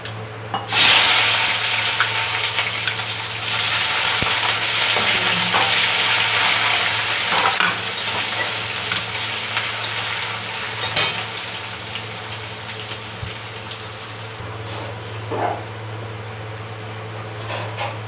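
Onions fry in a pan for a Bengali lentil and ridge gourd curry, a steady loud sizzle and crackle with occasional stirring scrapes running continuously for the whole stretch, no voices.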